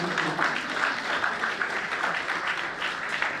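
Audience applause at an awards ceremony in Côte d'Ivoire: an even, sustained wash of clapping from a crowd, fairly soft and continuous throughout, with no speech over it.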